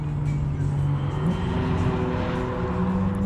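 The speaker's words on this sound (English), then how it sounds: "Got the Porsche Cayman coming" A Porsche Cayman race car drives on a track, its engine a steady, droning roar at moderate distance with a faint shift in pitch partway through.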